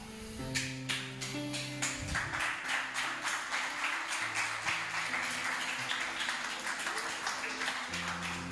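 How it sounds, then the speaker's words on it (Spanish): A congregation applauding during a sermon, a crowd's clapping running throughout under sustained music-like tones, moderately loud and steady. "Yo no me hubiera apurado a aplaudir"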